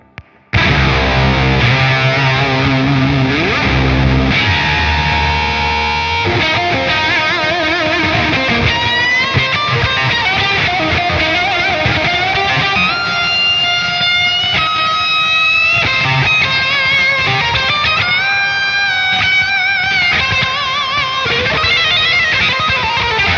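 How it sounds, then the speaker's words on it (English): Electric guitar played through a Schmidt Array SA750XDM pedalboard on a plasma coil effect, a loud, continuous, heavily distorted and buzzy synth-like tone with gliding pitches, sustained and alone for over twenty seconds. "So that would be the plasma coil."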